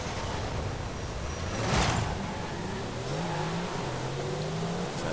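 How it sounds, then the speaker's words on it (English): Mercedes-AMG GT Black Series, a rear-wheel-drive car, launching from a race start in Forza Horizon 5: a loud, continuous engine roar rising in pitch through gear changes, with a brief whooshing swell early on. "Fairly decent launch for a rear wheel drive car."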